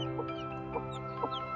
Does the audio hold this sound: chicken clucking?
yes